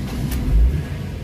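A Ford Focus engine turns over and catches after an immobilizer key reset, giving a brief, close, deep rumble that swells slightly before settling.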